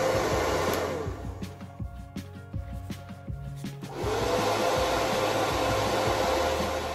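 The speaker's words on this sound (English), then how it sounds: "Use the diffuser as a cup to hold your hair and support the curl." A hair dryer fitted with a diffuser blows on curly hair with a steady close whoosh and whine that drops lower for a few seconds amid handling knocks, then returns to full strength.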